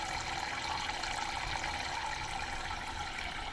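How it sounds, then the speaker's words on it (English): Water runs steadily from a working faucet on a homemade toy play kitchen set, a continuous even splashing hiss that stays constant throughout. "this faucet actually works. We turn it on and it runs the water."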